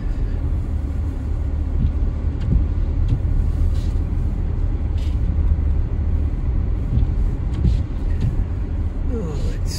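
A four-wheel drive vehicle rolls over gravel under snow, a constant low engine and tyre rumble with crunching road noise, heard from inside the vehicle at steady loudness.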